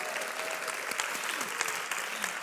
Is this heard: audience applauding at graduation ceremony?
yes